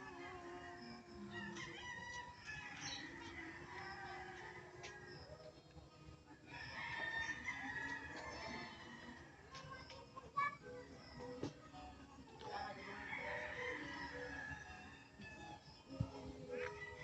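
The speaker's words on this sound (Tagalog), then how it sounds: "Ganyan po lahat ang aming manok." Roosters crow and chickens cluck in an outdoor yard, with voices talking intermittently in the background.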